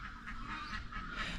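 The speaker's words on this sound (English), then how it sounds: "a bunch of birds yelling." A dense flock of ducks quacks and honks continuously, overlapping calls filling the whole moment at close range.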